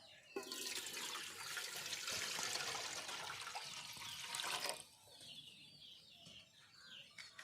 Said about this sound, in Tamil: வாங்க, பாத்திரத்துக்கு தண்ணி ஊற்றிக்கலாம்